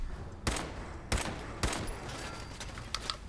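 Video game gunfire in Fallout 4: a close, loud volley of shots with three heavy bursts spaced about half a second apart over rapid follow-up fire and a dense rumbling backdrop.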